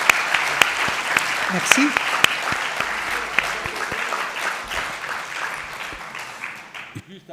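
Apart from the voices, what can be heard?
audience applause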